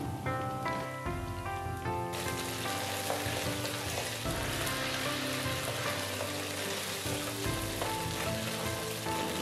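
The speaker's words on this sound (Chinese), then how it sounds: "加点生抽炒出蚝油的香味" Garlic and oyster sauce with a splash of soy sauce sizzle in a hot wok for lettuce, a dense frying hiss over music with stir-fry scrapes throughout.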